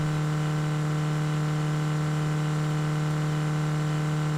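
A steady, high-pitched car engine drone in the video game Drive Beyond Horizons, held at constant high revs around 6,000 to 7,000 rpm without shifting gear, loud and unchanging throughout with no voices.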